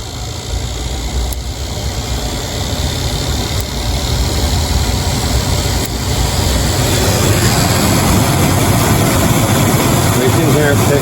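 The heater blower fan of a 1997 Jeep Grand Cherokee runs as a steady broadband whoosh that builds slightly in loudness, heard up close inside the cabin with engine hum beneath.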